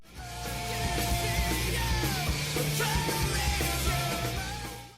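A loud, dense rock band excerpt, with distorted guitars, driving drums and shouted vocals, sustained at full level throughout.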